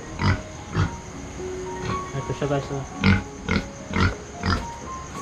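A pig grunts in short repeated bursts at a farmyard feeding, close and fairly loud at regular intervals, while someone talks briefly over it.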